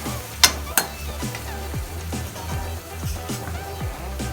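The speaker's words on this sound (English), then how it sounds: "1 teaspoon of vinegar, and saute them perfectly" Potatoes sautéing with vinegar in a pan give a steady, low sizzle. Spoon-scrapes and stirring knocks recur throughout, with two sharp clinks near the start.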